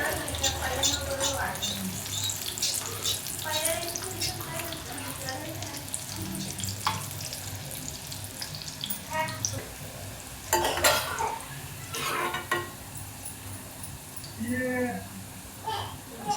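Pea and chana dal vadi shallow-fry in a little oil in a pan, with a constant sizzle, occasional scrapes and clinks of a utensil against the pan, and someone speaking over the cooking.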